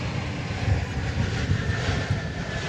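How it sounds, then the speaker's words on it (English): A seven-year-old Korean Air Boeing 787-9 Dreamliner jet at DFW Airport, bound for Seoul, gives a steady, loud engine roar with a broad rumbling low end, constant throughout and heard alone without talk. "And here now is the Korean Air flight coming in, or headed out to Seoul."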